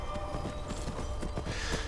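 Horse hooves clip-clopping at a steady walking rhythm in a fantasy role-playing game, fairly faint, over a soft background hum.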